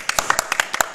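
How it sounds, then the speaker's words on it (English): Brief burst of audience applause at a Summer Games Done Quick 2015 speedrun marathon event, with about eight distinct claps in an uneven rhythm, close and moderately loud. "you can applaud"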